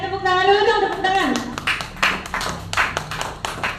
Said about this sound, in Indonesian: Tepuk tangan dulu dong, tepuk tangan.